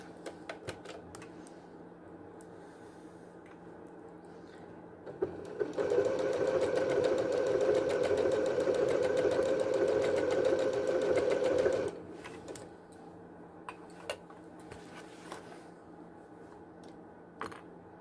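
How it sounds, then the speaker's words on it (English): A sewing machine stitching a waistband whirs in a steady, close run of about six seconds, with quieter clicks and handling noises before and after. "First part, sewing the waistband around."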